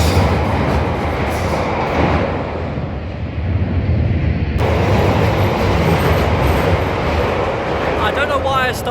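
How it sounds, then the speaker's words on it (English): A London Underground train pulls out of Elephant and Castle station, a loud, continuous roar and rattle from close by that fills the platform, with a faint squeal near the end. "I started recording as a train was leaving"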